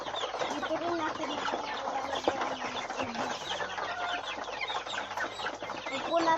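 Chickens clucking at feeding time on a farm, a busy chorus of overlapping clucks and chatter from several birds, fairly close and continuous, with faint background murmur.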